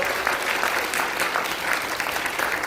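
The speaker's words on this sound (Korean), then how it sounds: "여러분 제자광성교회에 박수 쳐주시기 바랍니다." An audience at a forum in a National Assembly members' hall conference room applauds, a loud, continuous burst of many hands clapping with no talking.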